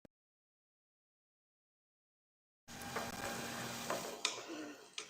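Onions frying in a pan while cooking for bangers and mash with onion gravy: after a long silence, a steady close sizzle starts, with occasional ticks and stirring clicks.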